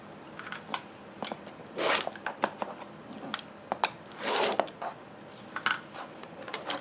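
A fabric quilt block is trimmed with a rotary cutter along a Creative Grid Log Cabin Trim Tool, giving soft scraping cuts and rustling fabric handling, close and quiet, with several short strokes and two longer swishes.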